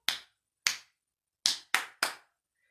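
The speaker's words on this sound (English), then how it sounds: "Clap up high." Five sharp hand claps made above the head, close and loud, in an uneven rhythm: two spaced apart, then three in quicker succession, with silence between them.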